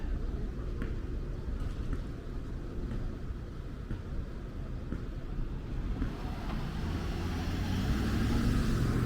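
A car passes on a city street at night in Brooklyn, a low, soft rumble of tyres and engine that swells slightly toward the end over steady traffic hum.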